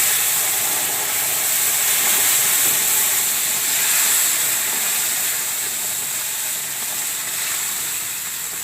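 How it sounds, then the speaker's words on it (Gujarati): Milk pours into hot roasted semolina in a pan, producing a loud, steady sizzling hiss that continues unbroken and gently swells and fades. "તો આપણે એમાં દૂધ નાખશું જો એ પ્રમાણે આપણે આમાં દૂધ નાખશું"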